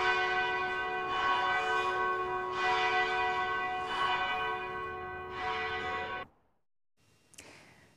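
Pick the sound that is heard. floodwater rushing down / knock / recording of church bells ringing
recording of church bells ringing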